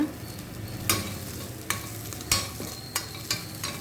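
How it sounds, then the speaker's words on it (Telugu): Ginger garlic paste frying with onions in a pan, stirred with a spoon that clinks and scrapes against the metal every half second or so over a steady close sizzle, with no voices. "దీంట్లో ఇప్పుడు ఓ స్పూన్ అల్లం వెల్లి పేస్ట్ వేసుకున్నాము ఇది కూడా కొద్దిగా పచ్చివాసన పోయేదాకా వేపుకోవాలి"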